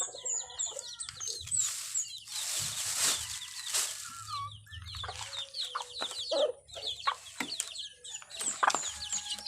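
Backyard chickens cluck busily and continuously nearby, with overlapping calls, sharp squawks and occasional wing flaps throughout.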